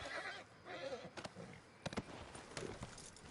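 A horse in the video game Red Dead Redemption II gives a faint whinny, with a few sharp clops or thuds scattered after it and a quiet game-world background.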